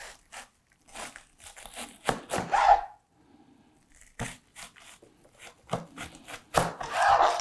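Knife slicing an onion into thick rings on a cutting board, several separate crunchy cuts with short pauses between them, close and fairly loud.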